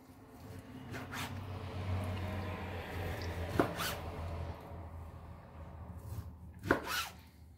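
A knife cuts through soft beef liver on a board, with quiet squishy slicing and two sharper strokes hitting the board, under a low background hum.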